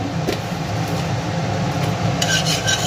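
Whole garam masala tempering in oil in a pan, stirred with a spoon, giving a continuous rubbing, scraping hiss with a few brief clinks, close and even.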